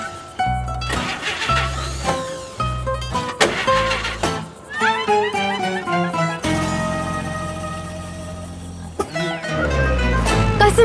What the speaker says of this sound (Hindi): हाँ जरा स्टार्ट करो, दबाओ जरा एक्सीलेटर। और जोर से दबाओ, और जोर से।